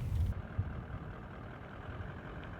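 A Toyota Land Cruiser making a full lock turn on gravel without electronic assistance, its engine rumbling low and steady at close range with faint crunching underneath, no talk.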